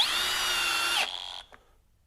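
A Hercules HCB92B 20V hammer drill whines steadily for about a second as it drives a 3.5-inch screw, then winds down and stops with a faint click, loud and close.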